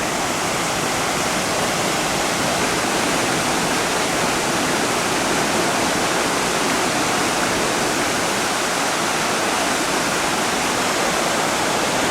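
Mountain stream cascading down through a carved rock slot near Rila Monastery in Bulgaria, a steady, loud, unbroken rush of falling water that fills the whole stretch, with no voices over it.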